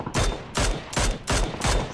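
A steady string of five loud, close gunshots in PUBG, the battle royale shooter, evenly spaced at roughly two to three per second, each a sharp crack.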